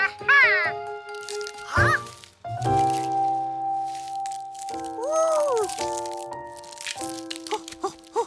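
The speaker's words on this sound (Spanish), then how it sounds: "Estoy viendo cómo sale un pato de su huevo." A cartoon duckling hatches from its egg with crackling shell sounds and quacky squeaks, set against a bright musical score in an animated desert scene.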